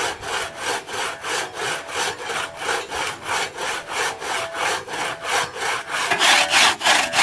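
A Swedish cross cut saw is pulled back and forth through a dead tree in the Yukon, giving a steady, loud rasping rhythm of about two strokes per second. The strokes grow harsher and louder near the end.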